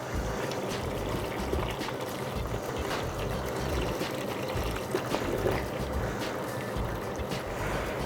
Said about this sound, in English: start adding syrup to the pan